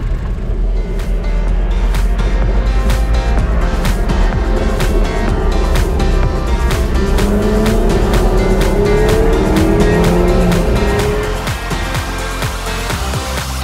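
A KTM X-Bow sports car driving, its engine a loud continuous drone with rising and falling tones as it revs through gears, heard from close inside.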